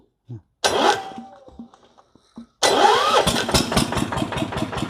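The engine of an Etan, a Thai farm utility vehicle, is cranked twice. A short first try catches briefly and dies, then a second start runs into a steady, loud, chugging idle close by.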